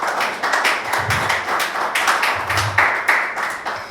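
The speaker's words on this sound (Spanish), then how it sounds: "Denle un aplauso a Jesús." Church congregation applauding, a dense, continuous crowd clapping with uneven rhythm, loud and close, with a few low thumps mixed in.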